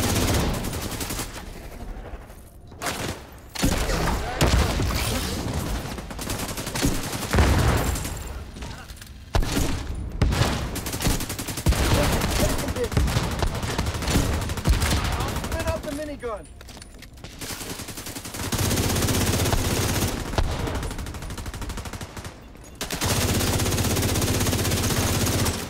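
A minigun fires in a gunfight in The Division 2 video game, loud sustained bursts of rapid gunfire with short gaps between them, and a person talks over parts of the shooting.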